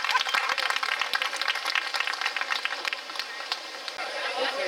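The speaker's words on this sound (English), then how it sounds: "Give another round of applause for Marlena Smalls and the Hallelujah Singers" An outdoor crowd at a Juneteenth celebration at Mitchelville Freedom Park applauds the Hallelujah Singers, a dense patter of many hands clapping steadily and fairly close, with a few louder individual claps standing out.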